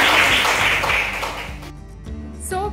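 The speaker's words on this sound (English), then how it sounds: "ek bar clap zordar clap bajaiye" Loud, dense clapping from a crowd at a beauty pageant stage rehearsal fills the first moments, then thins out, with scattered claps and other noises toward the end.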